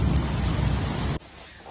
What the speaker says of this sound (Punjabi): ਬਾਹਰ ਮੀਂਹ ਪਈ ਜਾਣ ਦਾ